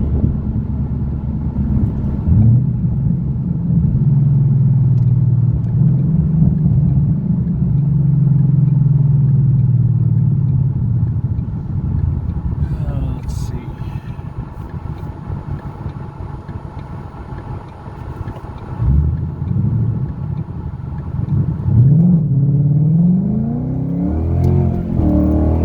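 A 2014 Ford Mustang GT V8 fitted with a full replacement exhaust rumbles at idle, then revs up into a loud throaty roar, settles back, and revs again near the end, close and with no talk.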